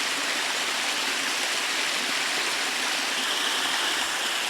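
Steady, close rush of water pouring down a hidden jungle waterfall in Puerto Vallarta, a dense unbroken roar with no voices over it.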